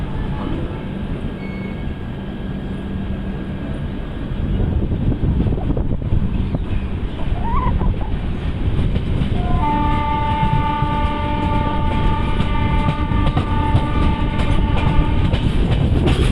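A Rajdhani Express train pulling out of Jharsuguda Junction: a low rumbling rail noise that grows louder and joins clattering wheels, with a sustained horn-like tonal blare in the second half.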